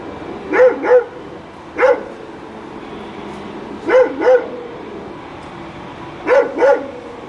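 A dog chained inside a caravan barks in short paired bursts, several woofs spread across the stretch with quiet gaps between them, fairly close and clear against a low background hum.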